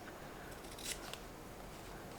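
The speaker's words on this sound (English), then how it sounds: "so grab my scissors, and I am going to just clip" Sewing scissors snip the corners of fabric on a journal cover, a couple of quick, close, faint clips over quiet room hiss.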